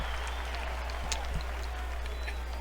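Applause from a virtual crowd rings out on finishing an airline cargo mission in X-Plane 11 flown with the AeroWorx C47, a steady, fairly faint patter of clapping lasting the whole moment with a low constant hum underneath.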